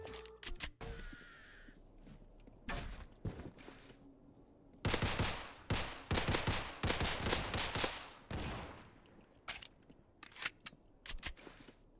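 Bursts of gunfire in the game Criminality, some single shots and some rapid volleys, loud and sharp against a low ambient background, with a dense stretch of firing in the middle.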